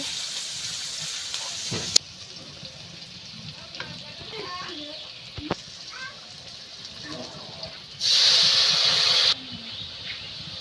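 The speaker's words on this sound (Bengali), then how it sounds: "তেল দিয়ে দিল, রসুন পেঁয়াজ কুচি কাঁচামরিচ দিয়ে দিচ্ছে।" Chopped garlic, onion and green chili sizzling in hot oil in a village kitchen, a steady close frying hiss with occasional stirring knocks and a louder burst of sizzle partway through, with some faint background voices.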